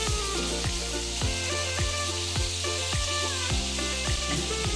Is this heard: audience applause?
no